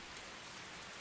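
Rain falls steadily in a faint, even hiss of many drops with no other sound, in an anime scene.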